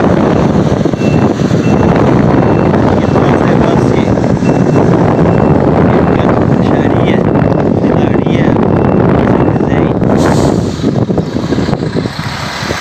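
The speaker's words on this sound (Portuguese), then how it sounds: "Dá um vento, um ventinho gostoso aqui." Steady wind roars outdoors at a roadside fuel station on a Brazilian highway, a loud, broadband rush that fills the scene, with a voice speaking over it.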